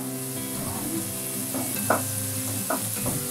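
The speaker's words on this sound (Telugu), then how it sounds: "చూసారు కదండి, ఇలా బాగా వేగిపోతున్నాయి" Potato pieces for aloo fry sizzle steadily in a pan, with soft scraping and stirring clinks now and then over the constant close frying hiss.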